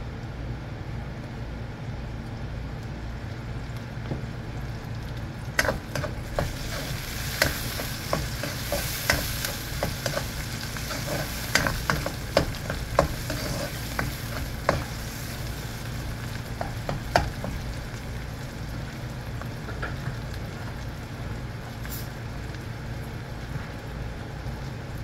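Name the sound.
frying browned onions, spices and green chillies for okra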